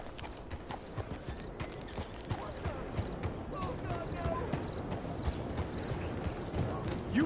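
A horse clip-clops in a video game, its hooves knocking in a steady close rhythm over a busy background bed, with faint voices mixed in.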